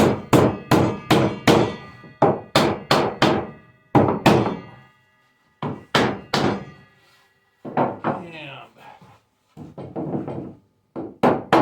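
A wooden block knocks a paneled kitchen cabinet door frame together on a table, sharp loud thunks in quick bursts of several blows, pausing between groups, with quieter taps near the end.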